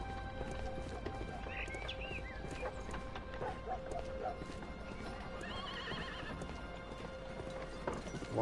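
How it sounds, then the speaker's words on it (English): Horses in the Sherlock Holmes video game Being Sherlock Holmes: My 1st Casebook clip-clop steadily with hooves on hard ground, and a horse neighs a couple of times; the sounds are faint and sit under a constant low ambient background. "Why do I hear horses?"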